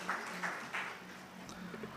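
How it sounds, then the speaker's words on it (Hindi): Faint, thin applause rises from an audience welcoming a speaker to the stage at a workshop, a few scattered claps under a low hum, distant and quiet. "जोरदार ताली ले हमार वक्ता मन के अभिनंदन करो।"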